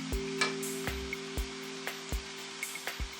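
Potato balls fry in a small pot of oil with a soft, steady sizzle broken by a few light taps and clicks near the pot, and no one talks.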